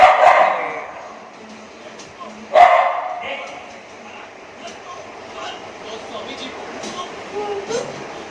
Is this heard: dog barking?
yes